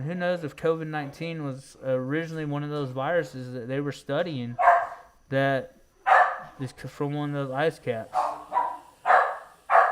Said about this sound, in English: I apologize about my dog going crazy back there with my kiddos